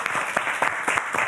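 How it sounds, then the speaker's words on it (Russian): Audience applause at a designer event in Gomel, a steady dense burst of clapping filling the whole short moment, fairly close and loud. "Еще раз эти аплодисменты вам."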